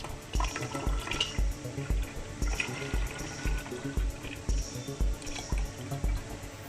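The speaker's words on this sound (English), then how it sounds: "So at this time we have to lift the funnel a bit for the wine to flow smoothly into the bottle." Homemade gooseberry wine pours through a funnel into a bottle in a steady trickle with regular dripping, close and moderately loud, with no talking.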